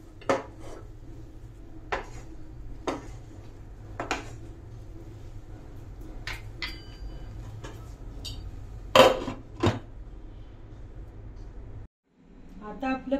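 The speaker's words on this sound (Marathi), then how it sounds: "तर मी यावर मस्त झाकण ठेवते आणि गॅस बंद करते" A metal lid is set down on a cooking pan, with several sharp clinks and clatters of cookware over a quiet hum, then a brief dip near the end.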